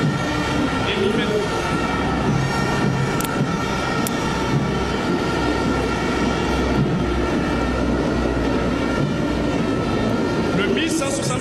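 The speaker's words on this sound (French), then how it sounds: "nous allons assister au passage des hélicos M8, 1611" Military Mi-8 helicopters fly over a boulevard in Bamako, Mali, during a national celebration parade, producing a loud, continuous rotor and engine drone. A commentator speaks over the steady roar.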